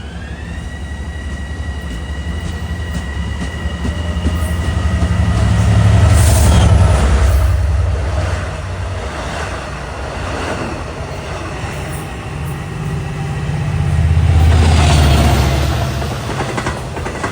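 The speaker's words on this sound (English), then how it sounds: "That was a Oyster Bay to Penn Station train" A Long Island Rail Road train from Oyster Bay to Penn Station passes at Queens Village during the morning rush, its rumble swelling twice as cars go by, with a sustained horn-like tone early on.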